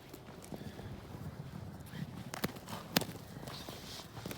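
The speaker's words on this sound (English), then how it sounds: "this is an 8-month-old Morgan horse filly" An 8-month-old Morgan horse filly walks on a barn floor, her hooves giving soft, irregular clip-clops at a moderate distance, with a couple of sharper knocks and low background noise.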